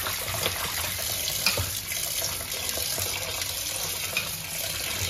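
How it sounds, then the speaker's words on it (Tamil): Drumstick leaves are rinsed under a running kitchen tap, giving a steady, continuous rush of water with faint splashing throughout and no talk. "இப்போ நல்லா அலசிக்கோங்க."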